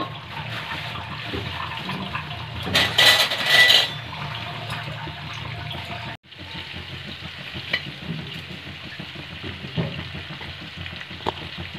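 Onion, garlic and ginger sizzle and fry in butter in a pan, a steady crackling hiss with brief louder bursts as ingredients are stirred in.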